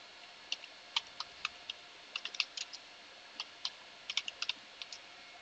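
Light, quick keystrokes on a computer keyboard as a terminal command is typed, about two dozen soft clicks in uneven bursts with short pauses, fairly quiet over a faint background hiss.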